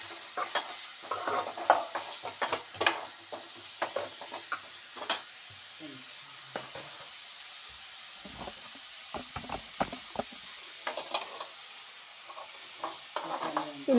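Bitter gourd fries in a pan while a spatula stirs it, giving a soft sizzle under repeated scraping strokes that come in uneven bursts.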